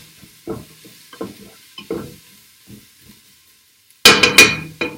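Mirepoix sautéing in a pot for chicken noodle soup, stirred in a few soft scraping bursts spread apart, then a louder, brighter sizzle and clatter near the end, with no talk.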